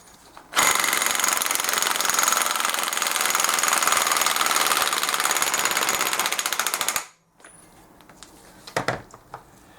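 A power drill hammers at a seized nut on a BMW F650GS motorcycle bottom end, a loud rapid rattling burst lasting about six seconds, then stopping, followed by a few faint clicks and knocks.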